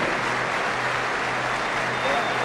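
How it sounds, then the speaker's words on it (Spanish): A dense, steady wash of applause fills a municipal sports hall before a WBO women's boxing title fight, the clapping crowd loud and continuous throughout. "Saludamos a la banderada y la despedimos con un fuerte aplauso."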